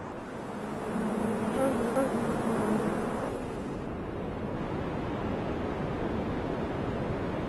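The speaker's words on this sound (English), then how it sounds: "This giant bee is aggressive." Giant bees buzz in a dense, continuous drone near a large cliffside hive, a steady insect hum with a slight rise and fall throughout.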